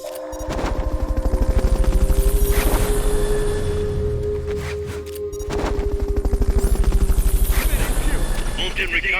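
Helicopter in the video game Metal Gear Solid Peace Walker, a steady rapid rotor chop with an engine whine, loud and continuous, with a brief lull midway and game voices heard over it.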